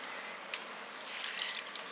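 Water pouring into a mixer jar of soaked rice, a soft continuous splashing trickle with a few small gurgles, faint and close, with no talking.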